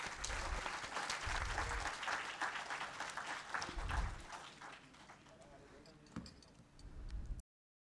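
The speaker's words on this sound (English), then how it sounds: "Please give them a big round of applause." An audience at a traditional and alternative medicine conference applauds, a sustained patter of clapping from many hands that tapers off, with some voices underneath.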